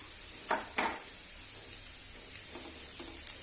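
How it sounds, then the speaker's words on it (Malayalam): Grated coconut frying in a pan for a squid thoran gives a soft steady sizzle, broken by a few scraping stirs early on and again near the end. "ഇതൊന്ന് നന്നായിട്ട് ഇളക്കി ഒന്ന് നന്നായിട്ടൊരു ഫ്രൈ ആകുന്നിടം വരെ നമ്മളിതൊന്ന് വേവിച്ചെടുക്കണം"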